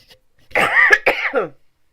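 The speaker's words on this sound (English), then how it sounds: "Sorry, I tried to cover up the mic while I coughed." A single person coughs loudly and close, a short harsh burst muffled by a hand over the microphone, in an otherwise quiet room.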